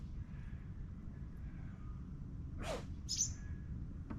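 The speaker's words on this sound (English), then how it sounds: "one of my pigs is out there sneezing" A single short, sharp sneeze-like snort from a pig at middle distance, followed by a brief chirp, over steady low outdoor rumble.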